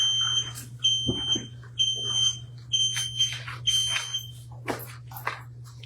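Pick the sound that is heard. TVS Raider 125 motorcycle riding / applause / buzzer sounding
buzzer sounding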